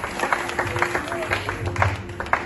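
A church congregation applauds and cheers for Jesus, with scattered claps and crowd voices rising and falling over a couple of seconds as talking continues underneath.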